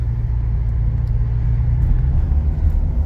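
Steady low rumble from a 1968 Ford Mustang coupe with a 289 V8 cruising a beachfront strip in White Rock, BC, a smooth, even engine drone close by without revs or voices.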